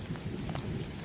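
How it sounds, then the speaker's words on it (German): Gentle rain falls after a long dry spell, a soft, even patter with a low rumbling wash beneath it, fairly quiet and continuous with no voices. "ist schön, wieder einmal Regen zu haben."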